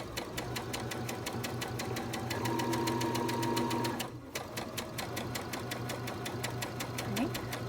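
Sewing machine top stitching a fabric lanyard, its needle clattering in a fast, even rhythm throughout, close and moderately loud, with a brief pause midway and a faint hum underneath.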